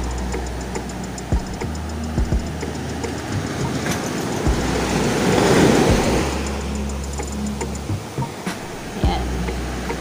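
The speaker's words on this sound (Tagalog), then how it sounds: "Ayan o, sobrang lakas ng alon." Waves surge and wash steadily at a beach in the early morning, swelling to a louder crash near the middle, with a few sharp clicks and knocks close by.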